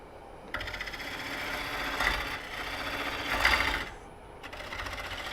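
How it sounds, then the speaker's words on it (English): Wood lathe turning a bowl, the tool taking heavy shavings: steady whirring hum with two swelling rasping cuts that rise and fade, close and continuous, no voices. "And you can see I'm taking fairly hefty shavings,"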